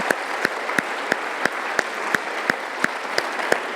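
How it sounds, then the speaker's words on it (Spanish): A congregation at a Spanish-language church service claps steadily in unison for God, sharp evenly spaced claps repeating about every third of a second over a soft crowd background. "Le podemos dar un aplauso a Dios porque nos ama."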